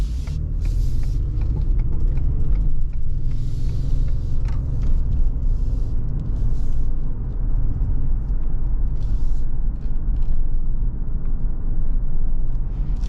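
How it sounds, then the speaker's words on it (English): 2019 Ford Expedition Limited 4X4 driving on a road behind a crane, a continuous low cabin rumble of engine and tire noise at steady loudness with no talking. "And so now we're just driving behind this crane."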